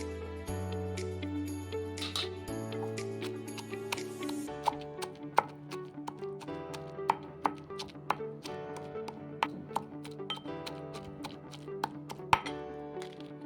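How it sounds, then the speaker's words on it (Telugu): A knife chops onion into small pieces on a board, crisp repeated taps at an uneven rhythm close by, over a low background hum, with no one talking. "దాంట్లో ఉల్లిపాయ చిన్న ముక్కలు కట్ చేసుకొని వేసుకోవాలి."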